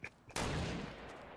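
A single sharp burst of gunfire in the video game Fortnite cracks out loudly after faint brief blips, then its tail decays quickly. There is no talking.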